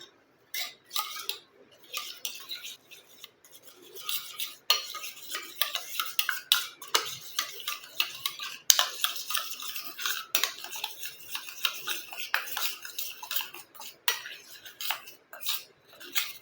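A spoon mixing a white skin-whitening face paste in a small bowl, quick irregular clinks and scrapes against the sides, close and crisp with short pauses and no talking.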